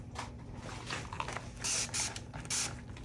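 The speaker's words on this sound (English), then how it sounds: "let me grab my spray bottle." A spray bottle spritzes alcohol over glitter and mica powder while making bookmarks, several short hissing bursts among light clicks and handling noises.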